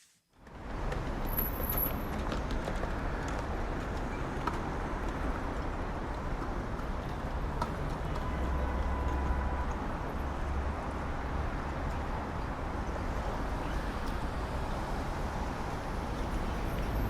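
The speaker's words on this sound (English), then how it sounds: "you hear noises, you hear the environment, cars passing by, people chattering." Busy city street ambience with steady traffic rumble from passing cars, buses and trucks, a brief air-brake hiss, and a faint murmur of people in the background, continuous and fairly loud throughout.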